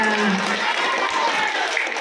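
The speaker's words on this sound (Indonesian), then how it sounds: "Tepuk tangan sekali lagi untuk Bapak Bagus." Audience applause at an anti-corruption, anti-bullying and anti-drug outreach session run by the district prosecutor's office, a dense steady wash of clapping lasting throughout with faint voices mixed in.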